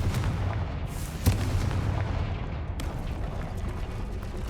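Confringo fire spells blast in Hogwarts Legacy, a dense rolling rumble of booming explosions with one sharper, louder crack standing out partway through.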